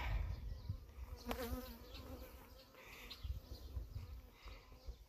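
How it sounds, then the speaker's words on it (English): Honey bees swarm around a beekeeper during a hive inspection after another brood box has been added, a close, steady buzzing drone with individual insects passing near, alone without speech. "bees around me, so trying to go slow"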